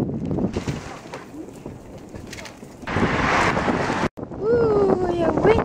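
Cold outdoor wind gusting against the microphone, a steady rumble that swells into a louder roaring gust midway, with a person speaking over it and a brief dropout near the end.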